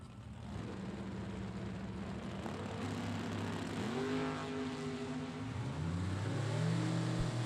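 Door cars at a drag strip race during a bracket racing event, their engines roaring from a distance with rising and shifting pitch as they run down the track, steady and loud without talk.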